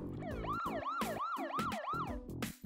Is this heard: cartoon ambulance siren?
yes